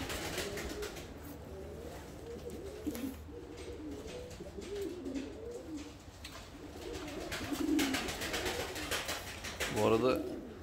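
Pigeons coo repeatedly from a coop of Mardin pigeons, low rolling calls layered throughout with wing flaps, while someone talks over them nearby.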